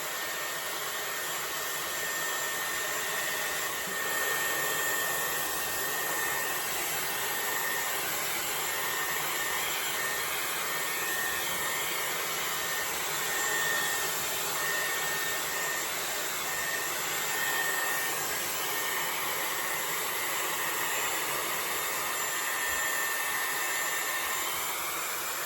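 A Dyson Airwrap hair styler runs continuously and loudly, a steady high-pitched rushing whine of air that draws hair onto its barrel, unbroken and with no voices over it.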